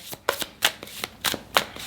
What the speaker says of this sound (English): I'll give that a good shuffle